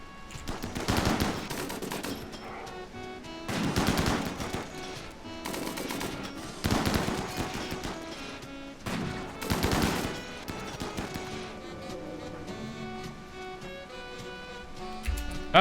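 Gunfire during a RimWorld fight, repeated bursts of rapid automatic shots in clusters every few seconds over background music.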